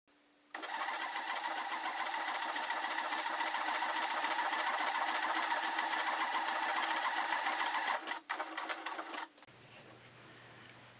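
A Singer HD6800-C sewing machine runs a long, steady, rapid stitching burst at close range, then stops with a few short bursts of stitches and a faint low hum after.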